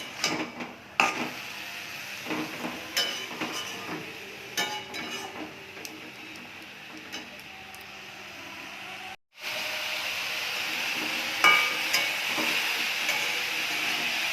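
Leafy greens fry and are stirred in a pan with a soft, steady sizzle, punctuated by scattered clinks and scrapes of the utensil and a brief cut-out partway through; no one speaks.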